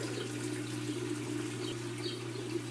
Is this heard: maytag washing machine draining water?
yes